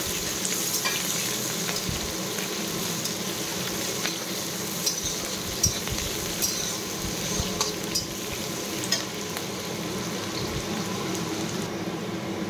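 Ginger and onion frying in hot oil make a steady, dense sizzle that crackles throughout at even loudness, with occasional small pops and clicks and no voices.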